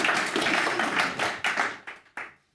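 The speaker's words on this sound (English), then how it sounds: "Please give Simon a fantastic round of applause." Audience applause at an Agile Yorkshire talk, a broad burst of clapping that fills the room and then thins out into a few scattered final claps before fading to quiet.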